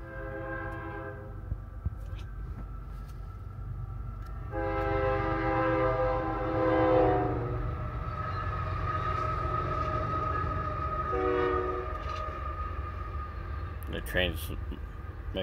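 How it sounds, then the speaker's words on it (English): A train passes nearby and sounds its loud multi-tone horn in several long blasts, with a rumbling roll of rail cars beneath and brief voices near the end. "Train's making her lose her mojo."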